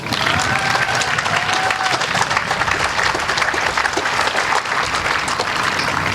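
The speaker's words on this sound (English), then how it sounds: "can we also get a huge round of applause for Tim and all the people who helped create Hope Field" Loud, continuous crowd applause at a Relay for Life 2015 event, honoring Tim and the helpers who created Hope Field, thick steady clapping filling the whole stretch, with a faint whistle-like tone early on.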